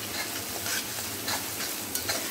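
Spring onion and moong dal being sautéed in a pan give a dense, steady sizzle with soft stirring strokes throughout, close by and without talk.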